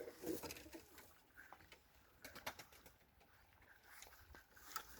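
Pigeons coo softly in a loft, their low murmuring calls faint and repeated amid light rustling and fluttering.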